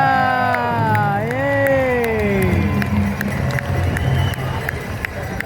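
A large indoor crowd cheers and claps steadily while a voice speaks loudly over the noise.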